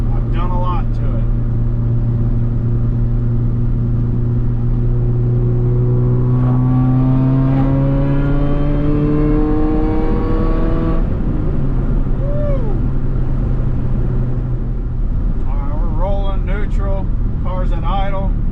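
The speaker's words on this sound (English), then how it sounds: "Car's at idle" An R53 Mini fitted with a Sprint Booster throttle module idles with a steady low engine drone, then pitch rises in a brief rev before settling back, loud and close throughout.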